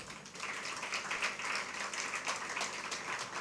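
Audience applause at a talk on sports as a local and global tool, a steady wash of many hands clapping, moderately distant and fairly quiet, continuing evenly without voices over it.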